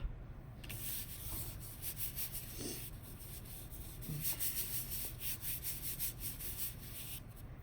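Paper being rubbed by hand onto an inked collagraph plate to pull a print, a steady soft scraping and brushing texture that continues throughout at low volume with no talking.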